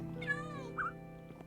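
Minecraft cats in a base meow twice in quick succession, short synthetic calls over a steady background hum and music-like tones.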